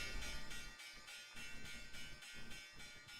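A stock market opening bell rings in rapid repeated strikes, a bright metallic clanging pulse that keeps going steadily and sounds faint and somewhat distant.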